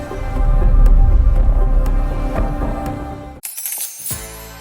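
A dense metallic shimmer of coins pours and clatters, then a brief pause before a few final bright clinks land close by.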